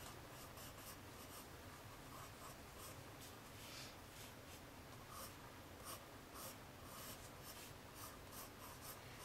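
Pencil or pen drawing a doll character's curling hair on paper, a soft, close scratching and rubbing with short repeated strokes, faint and continuous.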